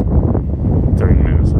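Low, rumbling wind buffets the microphone outdoors during an X-Maxx RC truck run without pause, a heavy, muffled roar filling the whole stretch.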